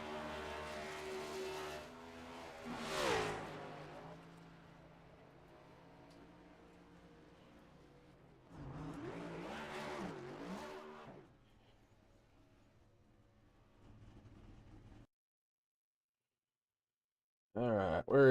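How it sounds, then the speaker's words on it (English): Race car engine at Homestead revving in bursts during celebratory burnouts, two loud revving swells with quieter idling between, then a short silence before another sharp burst at the end, no talk. "Let him get his celebratory burnouts in."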